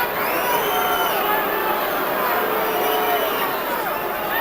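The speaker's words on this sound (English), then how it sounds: "And the Boo Birds come out in the crowd." Arena crowd at the Lennox Lewis vs Evander Holyfield heavyweight boxing rematch, a steady wash of massed voices swelling into booing and jeers, loud and sustained throughout.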